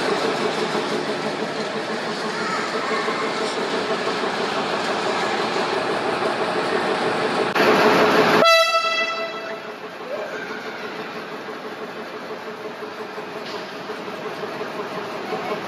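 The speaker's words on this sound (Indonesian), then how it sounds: "Ternyata kereta apinya dilangsir mundur" A roughly century-old train at the Ambarawa railway museum is shunted backwards, its engine rumbling steadily at moderate distance, with a short louder hissing burst and ringing tones midway before settling back to a quieter idle.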